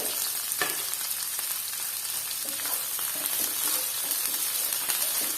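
Onions sizzling in hot oil while being sautéed for gobi manchurian, a steady broadband fry with occasional stirring scrapes, fairly close and even throughout.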